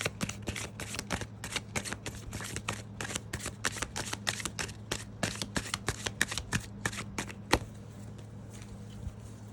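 Tarot cards are shuffled close up in a fast, steady run of crisp flicking snaps for about seven seconds. A sharper slap closes the run, then a quiet pause follows with a low steady hum underneath.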